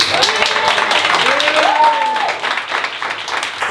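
Close, lively audience applause at a French comedy roast show, a dense crowd clapping with a few cheers. A voice speaks briefly over the clapping midway, and the applause settles slightly toward the end.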